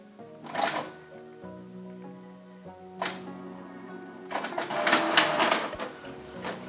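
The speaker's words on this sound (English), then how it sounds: "I will print a document from the Canon PRINT app." A Canon PIXMA G-series inkjet printer prints a document: clicking and a short motor whir, then a pause, another mechanical burst, and a longer run of paper-feed rattling and whirring, heard close with no talk.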